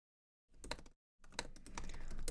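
Short bursts of close computer keyboard typing, a quick flurry of key clicks, then a brief pause and a longer run of tapping, entering a Heroku login command.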